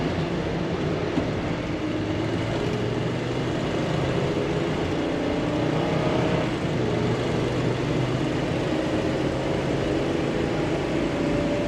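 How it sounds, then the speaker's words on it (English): A V10 engine in a 2013 Thor Four Winds 31K Class C motorhome with 92,000 miles, heard from inside while climbing a hill, gives a steady, loud, droning rumble with road noise and no pauses. "Definitely got that V10, that nice throaty sound."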